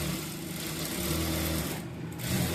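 A sewing machine stitches a plain blouse, running as a continuous close mechanical whir with a fast, even rhythm throughout.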